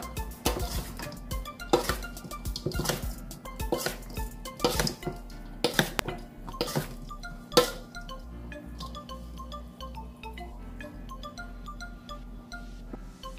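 A spoon gently mixes oven-roasted root vegetables and beetroot in a bowl, giving soft scrapes and scattered light clinks that fade toward the end.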